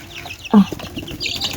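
Young tiger chicken chicks kept indoors, giving a single short loud cluck-like call close by, followed by faint chirps over quiet room noise.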